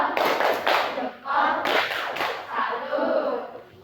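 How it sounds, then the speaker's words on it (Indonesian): A class gives the 'tepuk salut' rhythmic clap, sharp hand claps in short bursts over about four seconds, mixed with shouted voices chanting along. "Beri tepuk salut untuk Feby."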